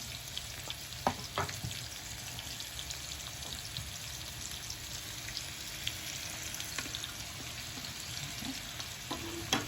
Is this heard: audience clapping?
no